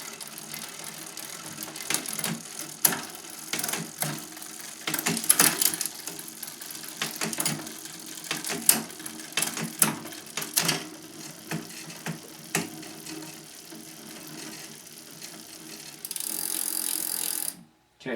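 Bicycle pedals on a 2015 Diamondback Airen 1 are cranked through the gears with cross-chain rub, giving irregular ticking, clicking and rubbing bursts close by, ending in a short steady whir.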